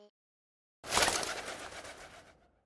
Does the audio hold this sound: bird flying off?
yes